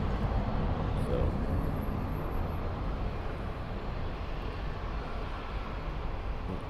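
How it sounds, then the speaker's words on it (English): A Japan Airlines Airbus A350 airliner passing near the south side of LAX, a steady broad roar of jet noise that holds throughout at moderate level, with some speech mixed in. "here's that Japan Airlines A350"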